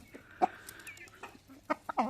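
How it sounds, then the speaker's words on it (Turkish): Chickens cluck in a few short, scattered bursts at close range on a poultry farm with roosters, with quiet gaps between the calls and no talk. "İkisi de silme tavuk."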